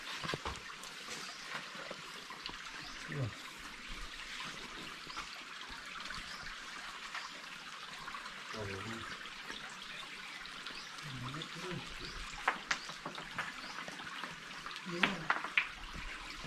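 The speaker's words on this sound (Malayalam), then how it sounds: "നല്ല കാടിന്റെ മേലെന്ന് വരുന്ന നല്ല അരുവി" A clear forest stream near a cave keeps up a steady broadband rush of flowing water for the whole stretch, with a few faint voices and small splashes showing through near the end.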